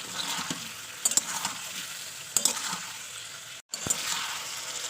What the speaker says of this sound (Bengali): এবার আমি দিয়ে দেবো আদা পেস্ট এবার আমি এটাকে ভালো করে কষিয়ে নেবো একটু